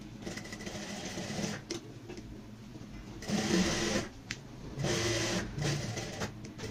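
Sewing machine stitching piping along the neckline of a kurti, running in short bursts with brief pauses between them, fairly quiet and close, with no talking.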